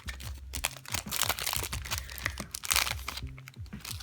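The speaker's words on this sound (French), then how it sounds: "Donc je vais l'ouvrir avec les ciseaux." An old Middle-earth (Les Dragons) trading card booster pack is cut open with scissors, giving close, busy crinkling, crunching and tearing of foil wrapper over a faint low background hum.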